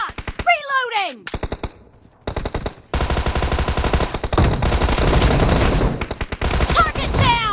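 An unsuppressed Thompson submachine gun fires in long loud automatic bursts during a video game firefight, broken by short pauses, with game voices and tonal sound effects between bursts.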